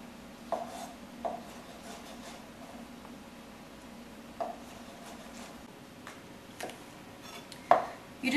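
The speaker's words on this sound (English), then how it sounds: "just wanna give the peppers a little chop and just coarsely chop the artichokes as well" Peppers, artichokes and mushrooms being coarsely chopped with a knife, a few sparse, separate knocks of the blade on a cutting board at an irregular pace, fairly quiet, with no talking.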